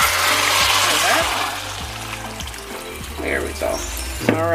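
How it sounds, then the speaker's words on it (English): Hot seasoning water pours steadily into a stovetop pot of oxtail, a continuous splashing rush that eases off while a person talks over it. "now we're ready to pour our seasoning water into this"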